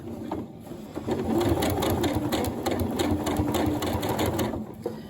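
A Janome Horizon Memory Craft 9480 sewing machine runs gather stitches in one steady, continuous whirring hum of fast needle strokes lasting a few seconds, close and moderately loud.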